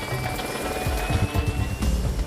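A helicopter painted as a Miami-Dade police helicopter flies low nearby, a steady whirring rotor drone with a faint high whine, no voices over it.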